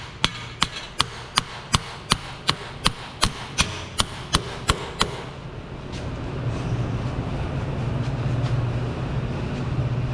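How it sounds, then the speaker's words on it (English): A weighted hammer taps a CV axle home into a Toyota Camry transmission, about a dozen sharp, evenly spaced metallic strikes. After them comes a quieter stretch of low background rumble. "and just give this a couple taps."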